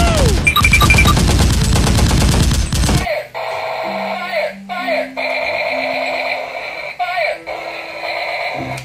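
A toy electric gun fires with rapid rattling bursts and beeping electronic sound effects, loud at first, then giving way to intermittent tonal blips and whirs.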